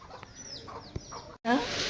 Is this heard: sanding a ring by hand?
no